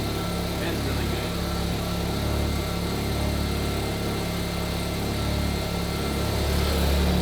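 A rotary engine fitted in a boosted Corvette idles with a steady, dense buzzing drone, loud and close, holding even throughout without revving; no one talks.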